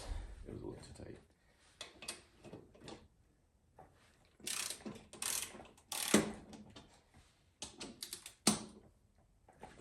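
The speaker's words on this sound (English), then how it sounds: "So I initially tried to use just a normal socket wrench." A socket wrench ratchets on the rear wheel bolts of a Yamaha V-Star 650 motorcycle, giving bursts of quick clicking strokes separated by pauses. Someone talks between the ratchet runs.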